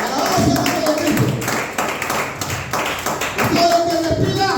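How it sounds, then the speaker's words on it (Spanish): A church congregation claps and applauds during a worship service, a steady burst of hand claps with shouts and voices mixed in, loud and close throughout. "Denle un aplauso a Dios esta noche"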